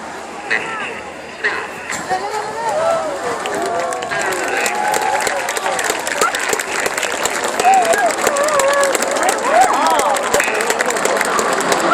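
Crowd applause at the 2013 Clacton-on-Sea air show, a steady outdoor clapping wash lasting throughout, with voices and babble mixed in.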